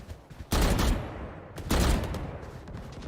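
Video game gunfire comes in two loud, dense bursts of rapid shots, each lasting about a second and trailing off into lingering noise, close and sharp with no talking over them.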